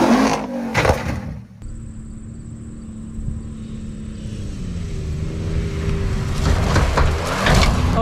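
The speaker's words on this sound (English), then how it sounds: "another jump in the books with the new vehicle, the Bronco, going airborne" Engine of a new Ford Bronco revs steadily as the vehicle launches off a jump and goes airborne, a sustained droning tone rising toward the end, with a brief sharp noise burst at the start.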